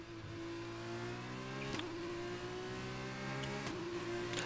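Race car engine in a racing video game with a thin, buzzy lawnmower-like drone, holding a steady note with slight pitch rises and two sharp clicks, loud and continuous with no talking.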